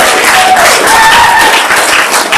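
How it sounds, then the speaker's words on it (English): A loud, close round of applause fills a Michigan celebration, with a thick crowd clapping continuously and a few cheering whoops rising above it. "Give yourself a loving round of applause."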